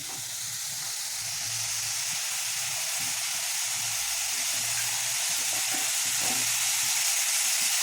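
Green turkey berries sautéing in a pan for a chundakkai kuzhambu, a steady close sizzle and hiss with faint scraping stirs underneath, continuing without talk.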